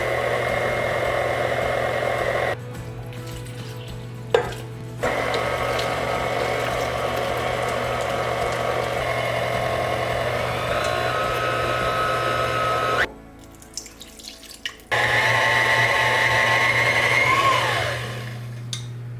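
A stand mixer whirs steadily as it beats cake batter for a layered Danish lagkage birthday cake, its motor dropping out briefly twice before resuming at a close, even level.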